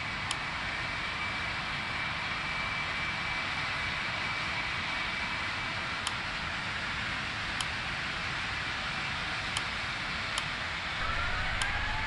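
Boeing 777-300ER jet engines idling while taxiing to the gate in a flight simulator game, a steady broad roar with a faint high whine and occasional small clicks, no talk.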